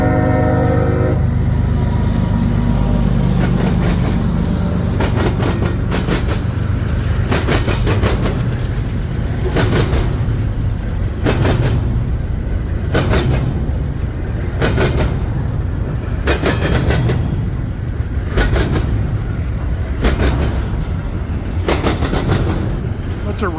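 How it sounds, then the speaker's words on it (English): CSX freight train rolling past eastbound on track 2, a single locomotive leading a boxcar and then intermodal cars including refrigerated units and tank cars, with steady loud rumble and rhythmic clatter of wheels over rail joints throughout. "Single locomotive with a boxcar in the front, switching to intermodal."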